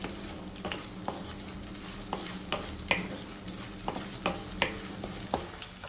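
Urad dal being dry roasted in a pan for mint chutney, with repeated scraping and tapping from a stirring utensil over a soft sizzle, close and moderately loud.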